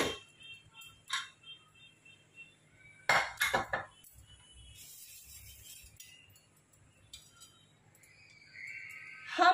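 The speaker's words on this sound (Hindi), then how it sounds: "अब हम ढक्कन खोल के ये मटन कीमा मसाला चेक कर लेते हैं।" A pressure cooker lid is opened on cooked mutton keema with scattered metallic clinks and clatters, a couple of louder clanks mid-way, in a quiet kitchen.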